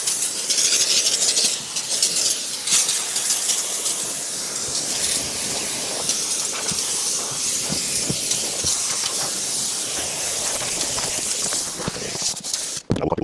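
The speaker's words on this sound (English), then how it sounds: "always keep your steamer moving." Steam cleaner jetting steam over a car interior during detailing, a loud continuous hiss that holds steady for the whole stretch, broken by a few brief clicks and ending with a short thump.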